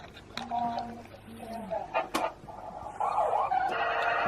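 A remote control toy ambulance wails a thin electronic siren with warbling rising and falling tones, faint and intermittent amid indoor clatter and soft background voices.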